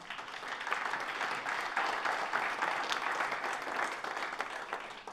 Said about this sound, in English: So a round of applause for our awesome School of 30.